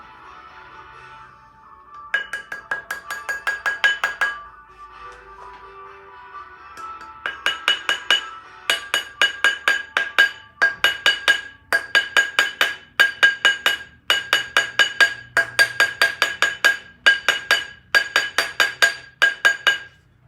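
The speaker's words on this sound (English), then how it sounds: "Right, rawhide mallet," A rawhide mallet hammers an 18k yellow gold wedding band, striking it in rapid clusters of crisp, ringing taps. The bright, bell-like tone repeats in a steady rhythm, close and loud, with no voices.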